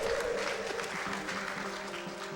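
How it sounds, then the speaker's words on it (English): Audience applause at a speedrun marathon (AGDQ 2018, during a Superman 64 run), a steady wash of clapping that fills the clip at moderate loudness, with some faint talk and tones underneath. "AGDQ has never lowered their standards more for what to clap for"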